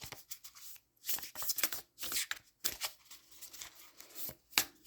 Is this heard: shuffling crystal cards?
yes